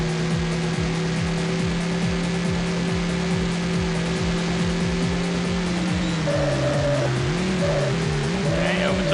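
Racing car in the Screamer 2 arcade racing game, its engine whining and shifting up and down continuously, with tire squeals near the end, loud and close, no talk.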